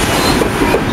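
A Novotrans freight train of coal gondola wagons rolls past at close range, a loud, dense rumble filling the brief moment.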